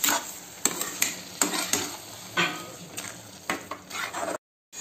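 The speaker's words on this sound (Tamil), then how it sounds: "இப்போ இதை நம்ம நல்லா மிக்ஸ் பண்ணிக்கலாம்." Carrot halwa with sugar stirred in a metal pan at home, a spoon scraping and clinking against the pan in a series of distinct knocks and scrapes, moderately close, with a soft background hiss and no talk.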